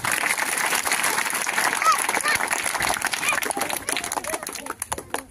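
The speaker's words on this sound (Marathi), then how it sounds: "आपल्याला एकदा जोरात टाळ्या वाजवायच्या" Steady, loud audience clapping fills a felicitation ceremony honoring newly appointed officers, continuing through the whole stretch and thinning into scattered claps near the end, with crowd murmur underneath.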